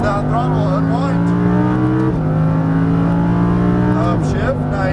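Lamborghini Huracan LP610-4 accelerating hard on a race track, its engine note climbing steadily in pitch with two brief dips at upshifts, loud and close throughout, with a voice talking over it.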